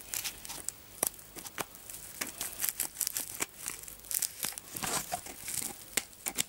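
Scissors or a blade slicing through crinkly plastic sheeting wrapped over a paper mache bodice, a quiet series of sharp crackling snips and tearing rustles spread unevenly over several seconds, with no talking.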